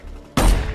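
Gunfire in the 2007 American action movie Shooter: a single sudden, loud blast bursts in after a quiet moment and then rumbles on briefly.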